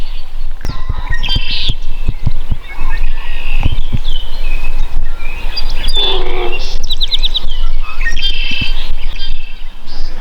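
Buzzy, nasal calls of a common nighthawk repeat outdoors, loud and close, among scattered chirps and soft thumps over a steady background hiss.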